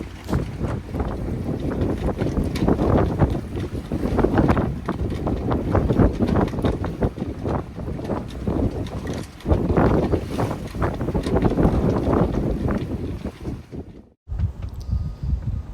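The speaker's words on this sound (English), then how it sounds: "on the last day we had a little squall" Gusty squall wind buffets a sailboat at anchor, with loud roaring blasts that rise and fall against the microphone. The wind drops out for a moment near the end, then picks up again.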